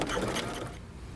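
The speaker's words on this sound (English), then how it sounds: "Now pivot and continue sewing around your waistband." Sewing machine running briefly while stitching around a jeans waistband during a pivot, a steady close mechanical whir that fades off near the end.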